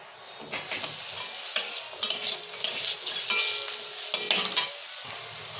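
Pointed gourd (potol) slices fry in oil in a pan for a vegetable curry, giving a soft, steady sizzle broken by intermittent scraping and clinking as a spatula stirs, all close and fairly quiet.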